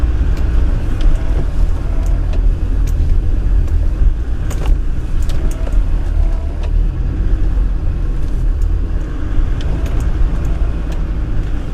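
An off-road vehicle driving a green lane in the Lake District, its engine producing a loud, continuous low rumble with rattles and knocks from the rough track, steady throughout.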